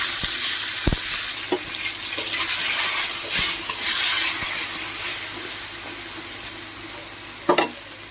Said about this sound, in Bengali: আর যে মাছ ভাজার তেলটা আছে তার মধ্যে আমি একে একে বেগুন আলুগুলো একটু লাল লাল করে ভেজে তুলে